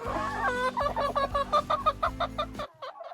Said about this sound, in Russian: Индюки сидят в теплице